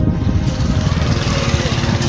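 A motorcycle engine idles steadily and close by for the whole stretch, a constant low rumble with a steady even throb.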